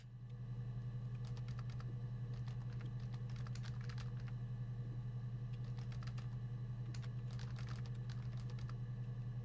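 Someone types on a computer keyboard in short, irregular bursts of clicky keystrokes, with pauses between runs, over a constant low electrical hum.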